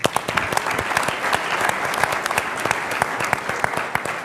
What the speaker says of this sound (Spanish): Así que un aplauso también para Carlos.